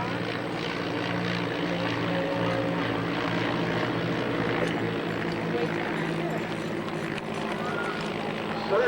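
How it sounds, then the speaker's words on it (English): Vintage propeller aircraft circling overhead at Old Rhinebeck, a continuous droning engine hum that holds steady and fairly loud throughout, with an announcer's voice faintly in the mix. "Just when you were looking up at airplanes"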